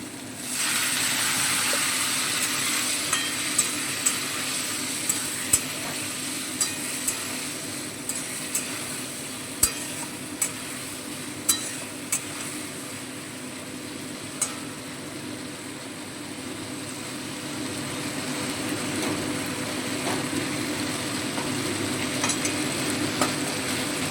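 Taro and potatoes stir-fried in a pan with ginger paste and a little water, giving a steady, close sizzle throughout with faint clinks of a utensil against the pan, and no talking.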